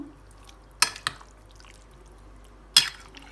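A spoon stirs yogurt potato salad in a bowl, giving a couple of sharp, bright clinks separated by a quiet pause, with a faint tap between them.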